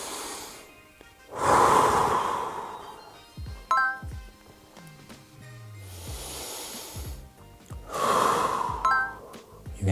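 A person breathes slowly and audibly while holding a hip-strengthening exercise, with two long, loud exhalations a few seconds apart, softer breaths and faint rustling between them.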